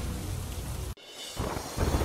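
Dense, rushing torrential rain pours down in Rajkot, briefly cutting out before returning even heavier, with low rumbling underneath.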